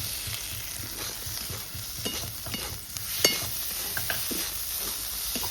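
Ginger-garlic paste with ground cumin, dried red chilli paste, salt and turmeric sautés in a pan for dahi chicken biryani, a continuous close sizzle broken by regular spatula scrapes and soft taps.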